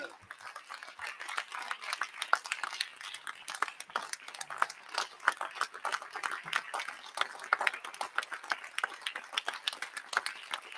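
Audience applause at a conference keynote welcome, a dense, steady wash of many hands clapping that carries on unbroken for about eleven seconds at moderate distance, with no voices over it.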